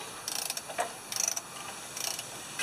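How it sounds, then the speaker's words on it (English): Metal parts grind and ratchet in short bursts as a freed stuck valve on an old tractor is turned, a few clustered clicking runs with pauses between, close and fairly quiet. "I'm just going to keep turning it."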